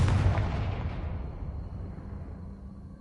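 A Confringo blasting spell cast in the Hogwarts Legacy video game lands as one loud explosive boom. Its rumbling tail fades steadily over a few seconds.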